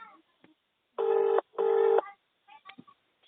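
A phone's ringback tone sounds twice in quick succession, two short buzzing bursts heard through a handset speaker, with faint speech fragments before and after.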